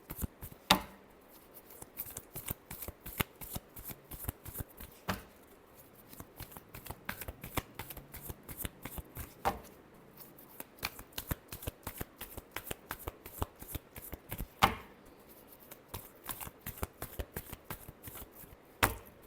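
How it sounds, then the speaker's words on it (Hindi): A deck of tarot cards is shuffled by hand, producing a quick close run of papery flicks and riffles with louder slaps every few seconds, quiet and steady, with no voice. "Last shuffle."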